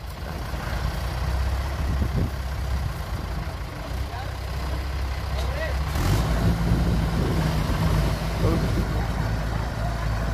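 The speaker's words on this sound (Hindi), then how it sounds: "भाई पूरा दम लगा रहा ट्रैक्टर भाई।" A 2014 Arjun 555 tractor's engine strains hard with a deep, loud, continuous rumble during a tractor tug of war against an Eicher 368, with the load surging heavier partway through and voices heard over it.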